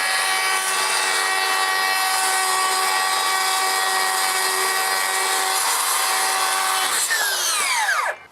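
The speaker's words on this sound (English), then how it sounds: "Let's go cut that first panel, see how difficult this is gonna be." A saw fitted with a Grit Cut blade slicing through a fiber cement siding panel for a pole barn, a loud sustained high whine that spins down to a stop at the end, close by with no talking.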